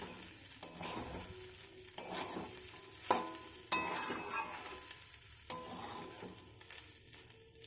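Cooked rice and fried egg are tossed in a hot pan, with a steady sizzle and the scrape and knock of a spatula stirring at close range. No one speaks.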